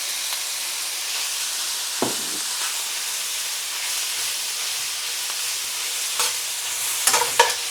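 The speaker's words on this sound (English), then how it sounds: "And now we can go into full-on stir-frying mode." Steady sizzling hiss of stir-frying onions, garlic and ginger, with occasional clinks and scrapes of a utensil stirring in the pan.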